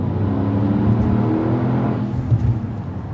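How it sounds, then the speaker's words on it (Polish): A Porsche exhaust burbles in a steady, low, deep drone at low revs, close and fairly loud, with no talking over it. "Wydechy chyba kozak, co?"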